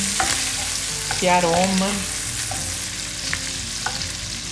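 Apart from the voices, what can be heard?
butter melting and sizzling with pancetta in a pan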